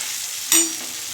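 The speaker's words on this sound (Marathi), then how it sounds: "या स्टेजला आता आपण ही ठेचा टाकून परतून घेऊया।" Thecha paste with cumin frying in a pan: a steady close sizzle with a sharp burst of spatter as the paste hits the hot oil, no voices.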